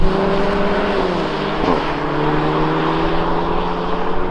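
A VW Golf GTI and a Honda Civic Type R drag race down a runway, their engines droning loudly and steadily as they pass, with a tonal roar that shifts pitch partway through, no voices.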